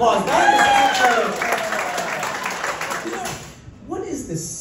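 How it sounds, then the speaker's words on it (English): Audience at a love and marriage game show gives a round of applause that fades beneath a speaking voice and musical tones, then lifts briefly near the end. "Give him a huge round of applause."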